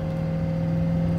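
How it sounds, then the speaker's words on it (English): A 2019 Chevrolet Silverado 3500HD diesel pickup engine idles with a steady, low, constant droning hum, close and unchanging. "You hear that diesel?"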